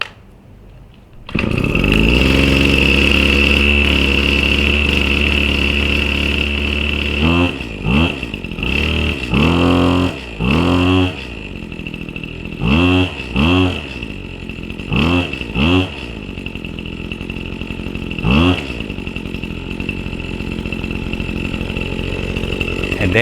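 A Husqvarna 525 RX brushcutter's two-stroke engine catches after a pull start and runs loud and close at a buzzy fast idle, its pitch dipping and surging in repeated bursts as it warms up.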